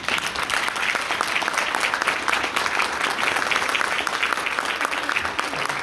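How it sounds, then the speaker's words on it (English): An audience at a Sand Creek High School award presentation applauds a teacher honored with the WCC Bridge Award, a dense, steady burst of many hands clapping, loud and sustained throughout. "a round of applause."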